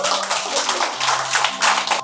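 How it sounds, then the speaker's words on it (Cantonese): An audience at a Cantonese stand-up comedy mini show breaks into applause, a dense, steady burst of clapping for about two seconds, fairly close and unbroken. "俾啲掌聲你哋"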